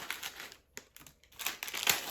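Packaging from a parcel is unwrapped by hand, a close series of crinkling and rustling bursts with brief pauses between handfuls.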